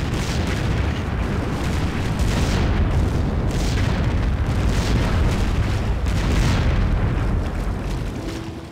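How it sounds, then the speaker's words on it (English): Ship cannon fire during a naval battle in the video game Empires: Dawn of the Modern World, a dense, continuous rumble of booming blasts overlapping one another, loud and unbroken throughout. "Ready with cannon."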